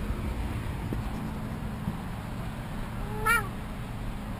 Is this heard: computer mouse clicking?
no